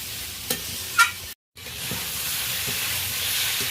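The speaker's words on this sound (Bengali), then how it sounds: "মশলার সাথে ভেজে রাখা আলু আর ডাঁটাটা আরও 2 মিনিট আমি ভালো করে কষিয়ে দিলাম।" Fried potatoes and drumstick stalks cooking with spices for a katla fish cumin curry give a steady close sizzle, with a couple of stirring clinks early and a brief gap in the sound.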